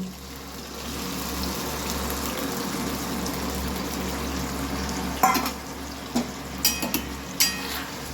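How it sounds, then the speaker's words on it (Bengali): Hot water goes into a pan of frying soya chicken, a low steady rush and hiss under a constant hum, with a few sharp clinks and splashes near the end, no talking. "সামান্য পরিমাণে গরম জল দিয়ে দিচ্ছি।"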